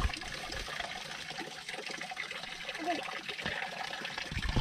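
Steady rushing water from a hose runs continuously, a broadband splashing hiss filling a small fishpond, with faint voices in the background.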